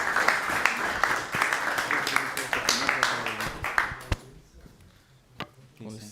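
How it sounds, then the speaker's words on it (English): An audience at a frontend developer meetup claps for a first speaker, a dense burst of applause that thins out and fades after about four seconds, leaving scattered claps, with voices murmuring underneath. "Let's have a applause for our first speaker, Guilherme."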